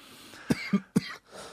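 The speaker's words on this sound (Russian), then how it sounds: "у меня начинается нервный кашель" A man's nervous cough during a conversation, three short close bursts in quick succession, rough and throaty, with a breathy tail at the end.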